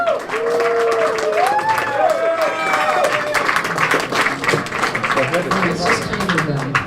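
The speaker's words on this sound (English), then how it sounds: "please make a very big round of applause" Applause from an audience at a Hollywood Museum superheroes exhibit evening event, a loud sustained round of clapping with whistles and cheering mixed in, with voices talking over the crowd throughout.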